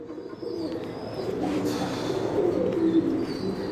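A blue bar Mookee pigeon coos in a low, soft, rolling murmur close by, a continuous throaty burble with no talking over it.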